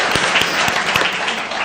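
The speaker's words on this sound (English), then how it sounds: "Oh yeah, you can cheer" Staff keynote audience at a staff appreciation event bursting into steady, loud applause and cheering, dense clapping filling the room with a few sharper claps poking through, no speech over it.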